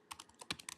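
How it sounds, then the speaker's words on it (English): Quick keystrokes on a computer keyboard typing a short search word, about eight light, close clicks in under a second, quiet and alone. "I'm going to type in create"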